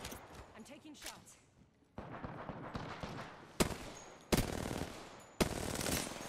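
Video game gunfire, rapid bursts of automatic shots and sharp cracks in several clusters, with a few louder impacts, heard up close over background game sound.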